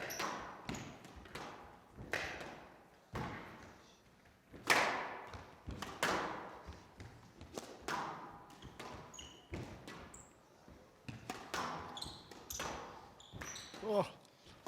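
Squash ball and racket hits during a rally at the Windy City Open 2020, sharp thwacks and wall thuds at irregular intervals beneath commentators talking.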